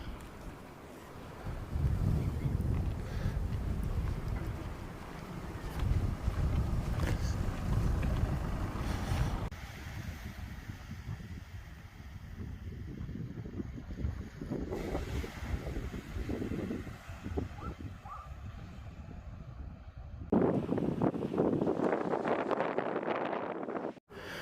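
A Welsh beach with steady surf and gusting wind: continuous rushing waves and buffeting wind noise across the microphone, loud and close, with a brief calmer patch midway before the wind swells again.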